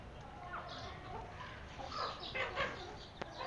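Backyard chickens cluck faintly among garden plants, soft scattered calls with light background noise.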